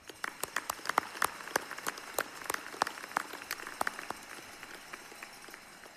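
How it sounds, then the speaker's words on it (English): Sparse, scattered clapping from an audience at a graduate commencement ceremony honoring award finalists, with distinct individual claps ringing out in an irregular rhythm rather than a dense ovation. "Let's give them all a round of applause."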